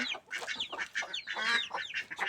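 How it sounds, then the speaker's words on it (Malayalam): Chickens and small chicks cluck and peep in a busy, continuous jumble of short calls, close by and moderately loud. "അവിടെ നമ്മളെ കോഴിക്കുട്ടികളൊക്കെ കാണിച്ചു തരാം."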